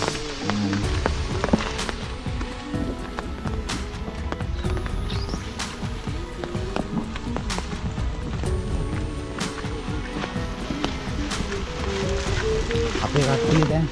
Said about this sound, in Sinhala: දැන් නම් වැස්සක් ආවා.